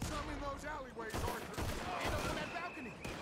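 Pistol fire in Red Dead Redemption 2, with several sharp shots cracking over a busy game mix and someone talking over part of it.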